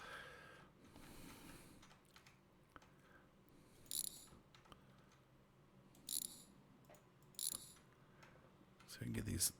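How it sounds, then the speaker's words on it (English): Ratcheting screw-undoing noises while parts are stripped from a junkyard pickup truck in the video game My Garage, with several short metallic bursts spaced seconds apart over a faint background hum. "So I can get these 2 screws undone."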